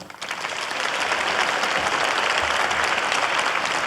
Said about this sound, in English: Brian Reese, and family members of Constanza please stand and give a round of applause.